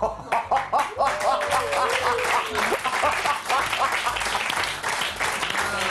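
Thin, tired applause from a comedy-show audience, uneven clapping that rises and falls across the stretch with a sustained tonal whine and a few voices mixed in.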